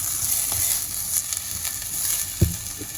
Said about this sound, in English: we shall fry the garlic first. Sorry, it's ginger,